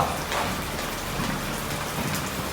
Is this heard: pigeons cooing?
no